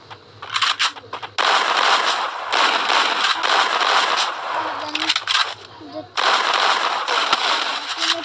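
Desert Eagle pistol shots and other gunfire crackle loudly in the Free Fire video game, in several dense, long bursts separated by short gaps.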